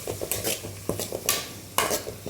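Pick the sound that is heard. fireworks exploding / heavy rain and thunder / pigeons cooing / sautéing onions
sautéing onions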